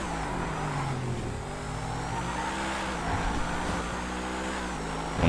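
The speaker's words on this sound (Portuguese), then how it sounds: "Uma máquina de caraças também este carro." A tuned McLaren sports car drives with a steady engine drone whose pitch shifts slightly as it moves, then swells into a louder rev at the very end, heard close and without talk.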